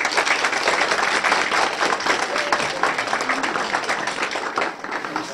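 Sustained crowd applause honoring the mayor of Ludești commune, dense steady clapping from many hands that fills the space and fades slightly near the end.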